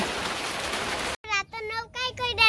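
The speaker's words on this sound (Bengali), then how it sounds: "কিন্তু বৃষ্টি নামছে" Steady hiss of falling rain for about a second, then it cuts off abruptly and a voice speaks.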